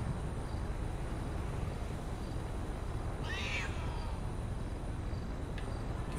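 During GTA 5 game play, a voice imitates a cat with a single brief meow in the middle of a steady, noisy background hum.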